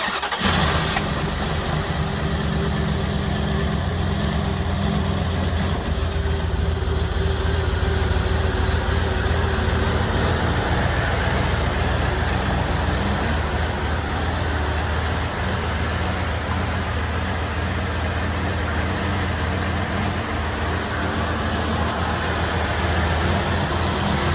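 A 1989 Cadillac Allante engine, just fitted with new injectors, catches on its first start and settles into a steady, loud idle with a constant low rumble and fan whir throughout.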